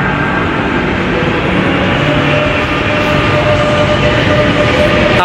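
A Madrid Metro line 6 train at Principe Pio station roars loudly and steadily, a dense continuous rumble with a faint high whine running through it.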